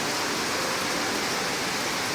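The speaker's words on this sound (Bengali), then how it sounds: "মুষলধারে বৃষ্টি হচ্ছে।" Heavy rain pours at night in Darjeeling as a dense, unbroken roar of downpour, loud and constant all the way through, with no talking.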